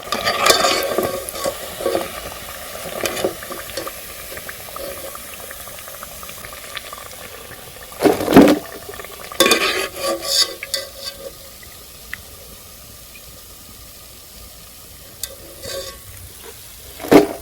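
Sugar and salt pinwheel dough frying in hot oil, a steady bubbling sizzle with scattered stirring clatters and louder bursts midway, heard alone without talk.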